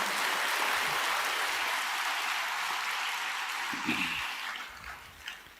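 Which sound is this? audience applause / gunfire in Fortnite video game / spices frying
audience applause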